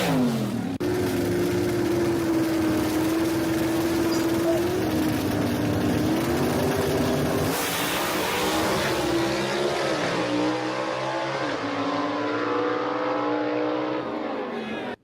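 A drag racing car at a dragway roars with a sustained, loud engine note that climbs in pitch and changes gear as it accelerates, fading slightly toward the end.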